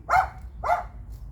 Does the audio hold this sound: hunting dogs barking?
yes